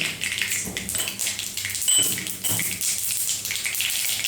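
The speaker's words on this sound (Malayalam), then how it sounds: "കടുക് പൊട്ടിയതിന് ശേഷം ഇതിലോട്ട്" Mustard seeds crackle and pop in hot coconut oil in an iron pan, a dense, rain-like patter of sharp little bursts, close and loud, with no speech.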